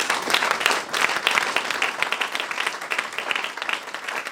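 A church congregation applauds to acclaim the Lord, a dense, steady burst of many hands clapping at once that fills the space and stays loud throughout.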